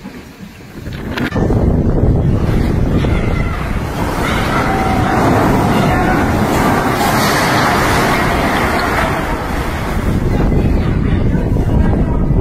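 A strong storm wind roars loud and continuous, buffeting the microphone with heavy rumbling gusts that hardly let up for over ten seconds.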